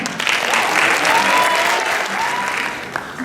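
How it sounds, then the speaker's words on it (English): A crowd at a talent show applauds steadily for about three seconds, dense clapping that swells slightly and then tapers off. "Let's give a big BGT round of applause to David Thompson."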